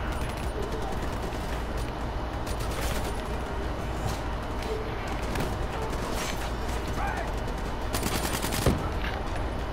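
Rapid video-game gunfire from a shooter campaign rattles continuously in dense bursts, with sharper cracks standing out near the end.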